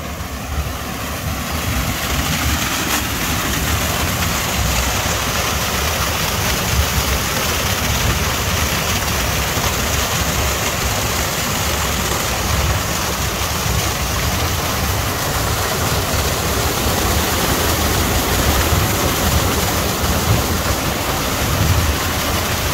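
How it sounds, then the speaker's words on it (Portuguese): Water pours steadily over the wheel of an old watermill on the Sellin river in Ibirama, Santa Catarina, making a loud, constant rushing roar that never lets up, with no voices. "Olha o volume de água aí"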